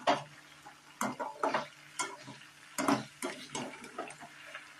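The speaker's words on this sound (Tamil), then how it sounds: "இப்ப அப்படியே எல்லாத்தையும் திருப்பி திருப்பி விட்டுக்கலாம்." Chicken 65 pieces are turned over while frying in a pan, giving a series of irregular close clinks and scrapes over a soft sizzle, with a faint steady hum underneath.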